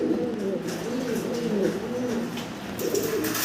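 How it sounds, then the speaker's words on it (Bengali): Large black Lahori pigeons in a farm cage coo steadily in low, rolling phrases, close and continuous with no talk over them. "বিশাল বড় বিগ সাইজের ব্ল্যাক এক জোড়া আমরা লাহোরি কবুতর দেখতে পারতেছি"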